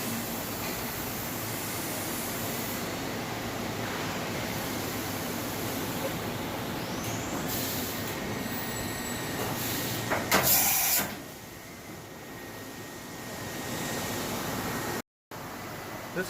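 Mori Seiki Duracenter 5 vertical machining center spindle spinning, a steady broadband whir and hiss that holds evenly, with a brief louder burst near the end and a short cut-out after it.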